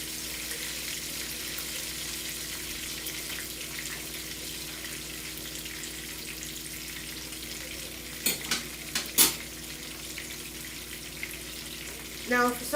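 Chicken tenders frying and browning in a pan give off a constant soft sizzle, with a few clinks and scrapes near the end.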